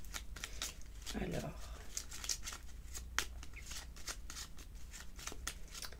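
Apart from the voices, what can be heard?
shuffling Lenormand oracle cards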